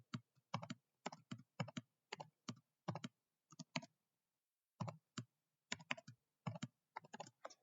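Typing numbers on a computer keyboard while writing Python code, a close, crisp series of key clicks in short bursts with one brief pause, in a quiet room with no speech.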